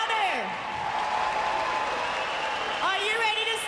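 Crowd at the 2024 Canadian Olympic and Paralympic Swimming Trials finals in Toronto cheering and applauding loudly and steadily, with voices rising above the roar.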